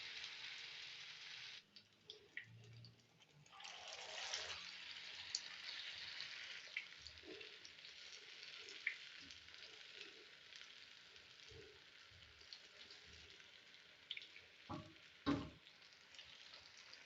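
Cauliflower kababs dropped into hot oil fry with a soft, steady sizzle and crackle, fairly quiet, with occasional clicks and light knocks of handling in between.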